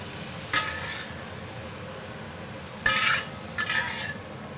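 Precooked asparagus is seared in a hot pan under a constant soft sizzle, broken by three short scraping bursts as a utensil tosses the spears. It sounds close and quiet, with no talking.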